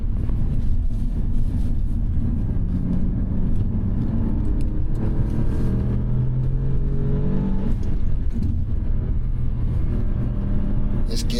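A 2023 Alfa Romeo Giulia Quadrifoglio drives on a race track at steady moderate speed, its engine droning with shifting gear tones and a loud low rumble throughout, while someone talks over it.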